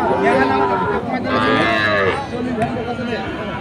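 Sahiwal calves moo loudly and repeatedly at close range at a cattle market, overlapping each other, with faint crowd murmur in the background.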